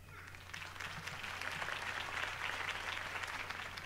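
Crowd applause after Harvey Dent's campaign speech in the Batman Telltale Series game, a fairly quiet, distant-sounding swell of clapping that builds in and holds steadily, over a low background hum.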